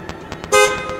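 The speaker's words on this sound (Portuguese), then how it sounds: "Agora uma buzinada pros caras doidos." A car horn blares once in a loud, sustained blast partway through, cutting off abruptly after a fraction of a second, following a few faint ticks over steady background noise.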